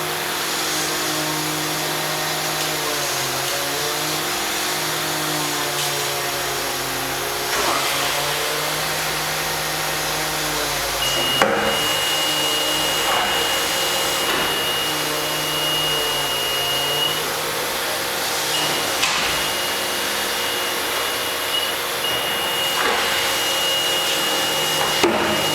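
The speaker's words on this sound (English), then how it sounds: "once the press times out, it'll decompress and open" Rebuilt 1060-ton up-acting 4-post hydraulic press with six oil-heated platens, decompressing and opening: a loud, steady hydraulic pump drone with humming tones, a brief clunk and shift partway through, then continuous machine noise.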